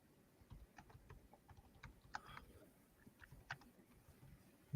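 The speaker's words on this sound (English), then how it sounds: "Keep talking, I'm typing." Typing on a computer keyboard, a faint, irregular patter of light key clicks with a few sharper taps, heard at low level against quiet room noise.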